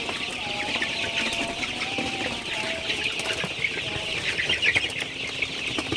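Sonali super hybrid chickens in a poultry shed at night, giving a steady, dense chorus of soft clucks and murmurs with occasional brief calls over a constant background hiss, no speech.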